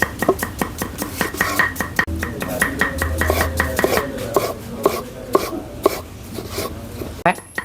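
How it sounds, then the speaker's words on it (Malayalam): A knife chops tomatoes on a cutting board for a Kerala fish curry with tapioca, the blade striking in a quick, steady run of close, crisp knocks with brief pauses. "ഞാൻ തക്കാളി വെട്ടാം."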